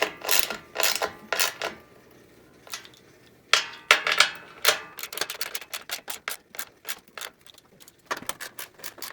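A hand ratchet with a 1/2-inch socket tightening bolts, heard as bursts of rapid, crisp clicking close by, with short pauses between runs of strokes.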